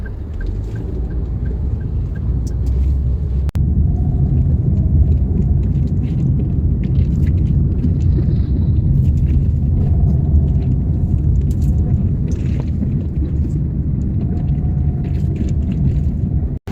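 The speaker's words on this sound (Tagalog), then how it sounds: "Guys, sumating na yung sasakyan natin" A car engine rumbles low and steady as the vehicle arrives and idles close by, a continuous drone with faint scattered outdoor noises and no talk.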